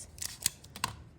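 Scissors snip through a paper sewing pattern for a front yoke style line, three or four crisp close cuts in quick succession, with no talking.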